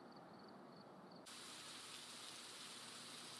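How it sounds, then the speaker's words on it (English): Steady hiss of rain in the horror video game Phasmophobia, faint at first and then swelling abruptly into a dense, even downpour that holds to the end. "Why is it raining?"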